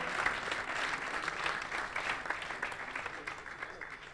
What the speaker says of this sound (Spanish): un fortísimo aplauso porque esto es aplicar el ingenio